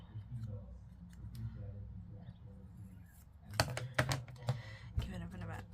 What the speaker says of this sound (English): Let me just snip this one down.